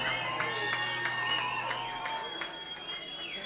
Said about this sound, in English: Give yourself one round of applause, y'all.